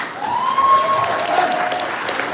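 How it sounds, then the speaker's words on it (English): An audience at a Saladmaster cooking event claps together in practice, a brief burst of dense applause with a tonal whistle-like sound over it. "let's practice clapping our hands."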